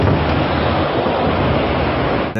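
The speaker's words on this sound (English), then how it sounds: "We are afraid here the wind will come from this side" Strong typhoon wind, Super Typhoon Mangkhut, rushing between two buildings as a continuous loud roar with steady broadband buffeting, no voices, cutting off abruptly at the end.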